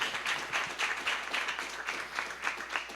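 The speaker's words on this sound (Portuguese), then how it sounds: "Vamos dar uma salva de palmas para esses nossos irmãos." A church congregation at a Catholic Mass applauds with brisk, continuous clapping. It is moderately loud and sustained throughout, with a faint low hum underneath.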